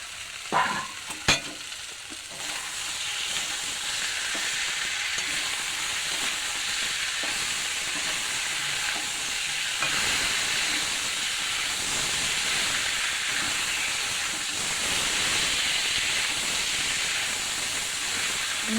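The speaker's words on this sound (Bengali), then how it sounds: "এবার আমি ওই যে গুলে রেখেছিলাম ওই মশলাগুলো দিয়ে দিচ্ছি এর মধ্যে। তার মধ্যে চিকেনটা দিয়ে দিচ্ছি।" Chicken frying with spice paste in a pan gives a continuous close, loud sizzle and hiss. A few utensil clatters come at the start, and the sizzle then stays steady to the end.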